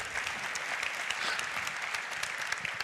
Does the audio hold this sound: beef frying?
no